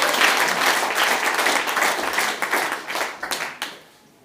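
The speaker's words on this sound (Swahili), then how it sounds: "Pigia Yesu makofi." A church congregation applauds together during a Swahili and Kikuyu sermon on divine power, a steady dense clapping that thins out into scattered claps near the end.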